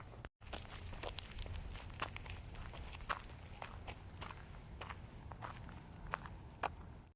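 Footsteps on an outdoor morning walk: a steady run of soft crunching steps close by, fairly quiet, over low background rumble.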